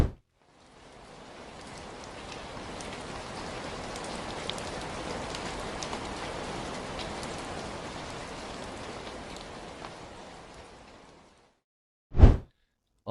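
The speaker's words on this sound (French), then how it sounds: "Avec l'eau qui ressort pendant qu'il pleut, c'est stylé." Steady rain pours down at a cathedral, with water spouting from the gargoyles above, giving a dense, even hiss that fades in and out, then a short loud burst near the end.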